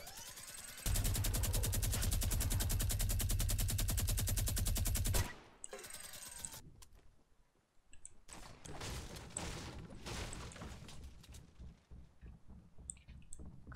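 Sustained minigun fire in a first-person shooter game rattles loud and continuous for about four seconds, then breaks off into scattered bursts, clicks and game noise over the following stretch.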